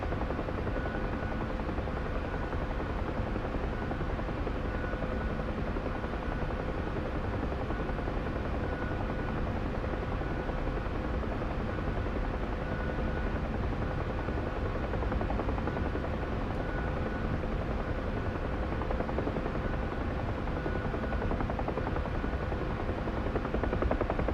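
A UH-1 Huey helicopter in the DCS flight simulator cruising at 80 knots through a valley at night, giving a steady, loud, unbroken rotor and turbine drone that runs throughout without any talk.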